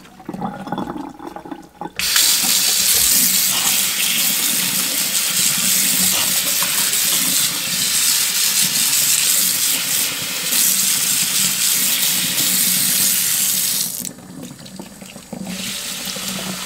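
Tap water runs hard and steady into a sink while a plant saucer is washed, a loud continuous rushing hiss that starts abruptly after a quiet moment and cuts off near the end, with no talking.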